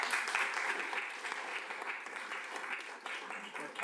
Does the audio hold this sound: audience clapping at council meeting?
yes